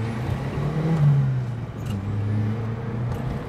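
A JDM car accelerates hard in first gear, its engine note climbing steadily in pitch for a few seconds at close range, with no talking.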